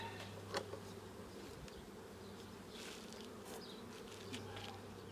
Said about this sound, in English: Did you hear the buzz as I smoked them there? Yeah, that's a lot of bees.